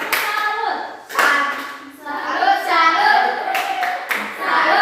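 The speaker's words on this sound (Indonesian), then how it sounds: "Beri dulu tepuk salut untuk kelompok 3" A school class claps the Indonesian tepuk salut cheer in a classroom, a few loud group bursts of rhythmic clapping close by, with children's voices between them.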